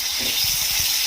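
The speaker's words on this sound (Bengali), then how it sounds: "এবারে এই তেলের মধ্যেই আমি দিয়ে দিচ্ছি কালো জিরে, আর দিচ্ছি টমেটো" Nigella seeds, chopped tomato and green chilies sizzle in hot oil in a pan, making a steady, loud hiss with a few soft low bubbling pops underneath.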